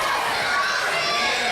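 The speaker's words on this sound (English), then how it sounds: "And listen to this crowd." A raucous standing-room-only wrestling crowd roars and cheers continuously, a loud dense wash of many voices with shouting children.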